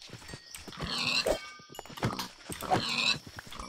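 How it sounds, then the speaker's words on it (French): Pigs in Minecraft grunt and squeal in short, nasal bursts, several spaced calls over a few seconds, clear and close with no talk over them. "Voilà les cochons."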